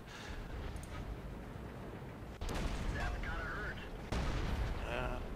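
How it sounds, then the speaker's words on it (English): The main gun of a Churchill heavy tank fires in World of Tanks, with two heavy booms about two seconds apart over a continuous engine rumble and battle din. Brief voices sound between the shots. "Yep, that's the gun on the Churchill. You just keep shooting, you don't stop."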